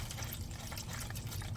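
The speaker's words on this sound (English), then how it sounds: "it's quite a bit of water coming out" Rainwater gurgles and trickles steadily out of a 1970 Dodge Super Bee engine, a close, continuous draining flow with no voices.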